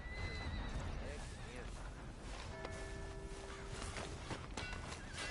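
A horse in Red Dead Redemption II whinnies loudly near the start, then lets out a shorter second neigh, over a steady bed of outdoor ambience.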